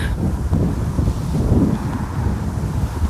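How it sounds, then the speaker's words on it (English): Loud, steady wind buffets the microphone outdoors beside an old parking lot, a continuous rumbling roar with no voice. "that wind is really, really loud right now"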